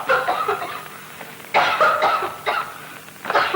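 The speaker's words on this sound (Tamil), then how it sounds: "குழந்தை ரொம்ப இருமுதுங்க." A child coughing in a crowded Tamil film scene, with several bursts of harsh, raspy coughs spaced across a few seconds, close and fairly loud with no talk over them.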